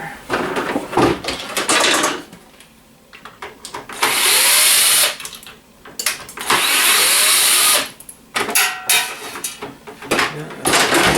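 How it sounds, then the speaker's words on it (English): Scrap electronics being unscrewed to free an LCD: close, loud whirring bursts of a powered screwdriver lasting a second or two, alternating with clattering, rattling handling of parts. "I'm gonna have to unscrew things, I'm guessing here."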